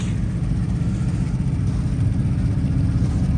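A 1976 Dodge B200 half-ton van with a 360 V8, automatic transmission and dual exhaust runs at a steady idle, giving a continuous low, even rumble close by with no talking.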